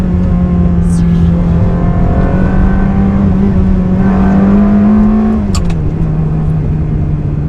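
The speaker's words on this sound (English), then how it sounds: "Got a bend coming up, downshift." Ferrari 360 Spider with a gated manual gearbox runs loud and close under steady engine drone, pitch rising then dropping as it downshifts for a bend, with a person talking briefly over it.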